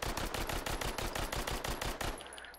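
An M4 rifle fires in semi-auto in the VR game Hot Dogs, Horseshoes & Hand Grenades, a rapid, loud, close string of over a dozen sharp shots that stops abruptly, leaving a brief tail.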